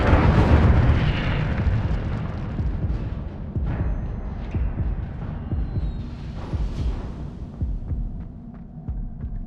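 Deep rumbling roar and crackle of the Incendio fire spell in Hogwarts Legacy, a sustained loud burst that swells at the start and keeps churning with scattered crackling bursts.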